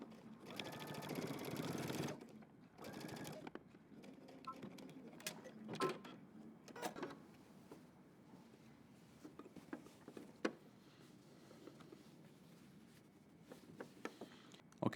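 A sewing machine stitches a welt on a jeans jacket, backstitching at the start and end: a fast mechanical whir in short bursts with pauses between, close and fairly quiet, with soft handling clicks and no talk.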